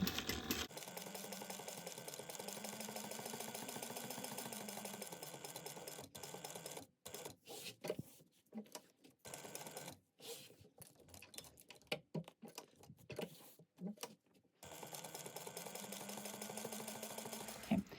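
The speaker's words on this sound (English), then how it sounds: "I'm just going to go around at 1/8 of an inch and I'm sewing in my zipper tape." A home sewing machine stitches number 3 zipper tape at an eighth-inch seam allowance, running in steady continuous bursts broken by brief stops and restarts, close and fairly loud with no talk over it.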